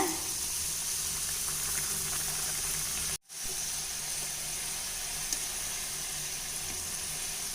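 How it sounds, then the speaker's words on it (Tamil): Somas, sweet filled pastries, frying in oil over medium heat, giving a steady close bubbling sizzle that drops out for a moment before resuming at the same even level. "எண்ணெய் வந்து கொஞ்சம் மிதமான சூட்லேயே பொரிச்சுக்குங்க, ரொம்ப தூண்டி விடாதீங்க."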